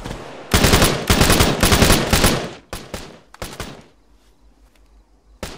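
Suppressing gunfire in a squad-based military shooter game, long, loud, rapid automatic bursts, then scattered single shots and short volleys fading into quieter distant fire.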